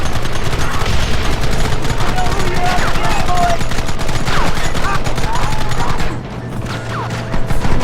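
Sustained gunfire from a shootout in the Xbox 360 Western game Red Dead Redemption, dense rapid shots and bursts layered over a loud, continuous battle din that briefly drops near the end.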